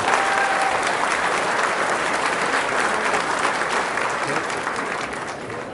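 Loud, sustained applause from a crowd at a Volkswagen show, dense clapping that continues throughout and fades slightly at the end.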